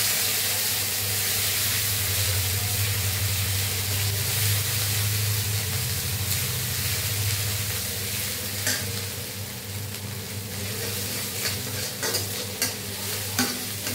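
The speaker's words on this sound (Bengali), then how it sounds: "আমি যে আদা আর রসুনটা গ্রেট করেছিলাম, এটা আগে দিয়ে দেবো।" Grated ginger and garlic fry in a pan with whole cumin, a continuous loud sizzle and hiss with stirring scrapes, growing a bit crackly toward the end, no talking.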